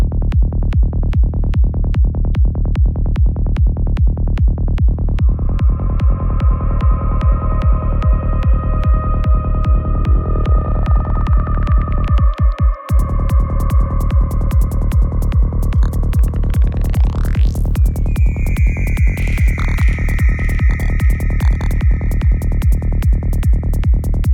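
A rapid, steady electronic pulse throbs throughout while glitchy tonal sweeps and warbling synth tones from Ableton's Grain Delay rise and bend over it, with one sharp dropout midway.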